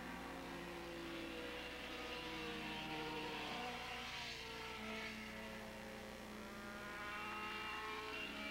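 Suzuki and Kawasaki 750cc Super Street motorcycles racing at Willow Springs International Raceway in 1987, a continuous distant engine drone that rises and falls in pitch as the bikes pass, faint beneath steady background noise.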